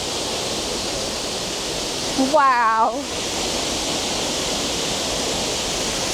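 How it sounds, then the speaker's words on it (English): A waterfall in Munduk, North Bali roars as a steady, broad rushing wash, loud and close, with a person briefly exclaiming over it. "This waterfall is absolutely stunning."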